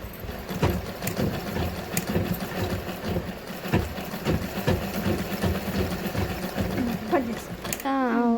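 A pico sewing machine stitches fabric in a steady, rapid mechanical clatter, loud and close, with a short whirring change near the end.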